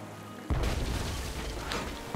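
A cannon fires in the video game Tales of Monkey Island, a sudden deep boom after a quiet moment, followed by a sustained rumbling, noisy tail.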